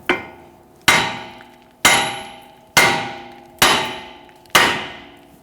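A hammer strikes the front lower rearward control arm ball joint of a 2011-2023 Dodge Charger: six loud, evenly spaced metallic whacks, each ringing briefly before the next blow.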